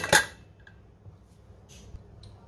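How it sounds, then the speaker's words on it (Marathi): Lid of a pressure cooker being lifted off after the pressure has gone, giving one sharp close metallic clank followed by a few faint light clinks and rattles in an otherwise quiet kitchen. "आता आपण झाकण काढूया"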